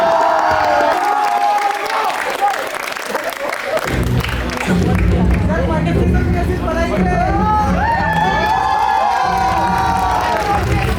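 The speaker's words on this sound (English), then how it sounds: "Please have a big round of applause for them." An audience at a school opening ceremony and Teacher's Day cultural event breaks into loud cheering, shouting and applause that swells and carries on throughout, with children's voices and crowd babble mixed in.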